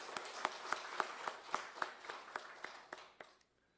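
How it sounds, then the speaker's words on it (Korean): Church congregation clapping for the choir after a service song: a sparse, steady round of individual claps, each crisp and distinct, fading out near the end with no voices. "우리 성가대를 위해 다시 한번 박수 주십시오."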